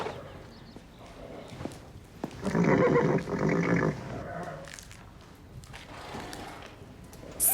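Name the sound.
horse Comanche neighing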